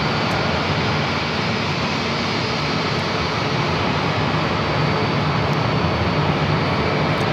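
Airbus A319 airliner on flight 3230 in from Portland, heard at Phoenix airport as a constant, fairly loud jet engine rumble that stays even from start to finish, with no talk over it.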